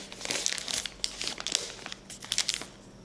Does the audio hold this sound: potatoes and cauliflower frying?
no